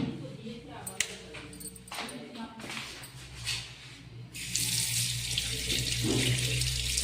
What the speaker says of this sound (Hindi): पहले हैंड वॉश करते हैं फिर उसके बाद।